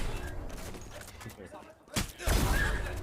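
Gunfire in a VALORANT tournament match, a few sharp bursts and impacts around the middle and end of the clip, mixed under a caster's excited commentary.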